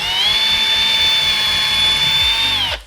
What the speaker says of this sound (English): drill through just like that